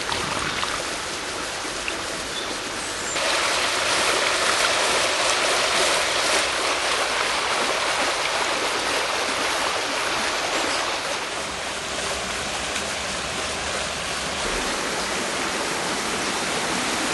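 Water of a stream in Westerplatte, Poland rushes continuously in a strong, broadband roar, like a fast mountain river, swelling after a few seconds and holding steady throughout.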